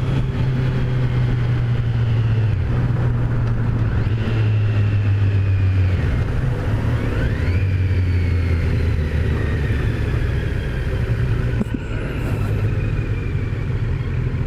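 A 2018 Kawasaki Z900 naked motorcycle engine drones steadily while riding, a loud continuous low hum with a few rising and falling pitch sweeps as the throttle shifts, wind noise mixed throughout.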